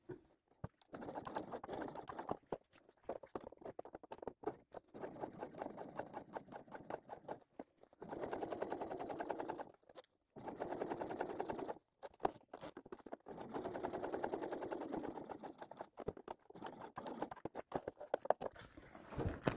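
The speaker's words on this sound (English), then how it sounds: "Sewing just through the vinyl, and my lining is here out of the way." Sewing machine stitching through vinyl runs in quick rattling bursts with short pauses between, close and fairly quiet, with no talking over it.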